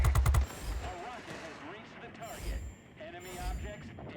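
Aircraft guns from a Bf 110 B heavy fighter in World of Warplanes fire in a rapid, loud burst at the start, then shorter bursts follow under engine noise while someone talks over the action.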